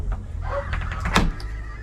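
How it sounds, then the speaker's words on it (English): A sea door aboard a Galeon 325GTO yacht unlatches and folds down, giving a short close clunk and rattle against a steady low hum of the boat on the water. "So that door uncatches and folds down."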